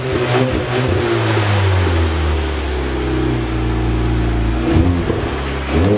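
A car engine fitted with a new aftermarket muffler revs and holds a deep, rumbling drone close by, with throttle blips near the start and toward the end, and no talking.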